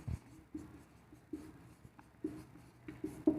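Pen writing on paper during a lesson, quiet scratchy strokes in short bursts about every half second, close and faint with no talk.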